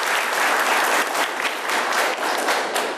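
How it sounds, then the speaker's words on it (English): At a county governor debate, an audience applauds the candidates: loud, dense clapping that holds steady for about three seconds. "you can first give a round of applause to our candidates who are gathered here"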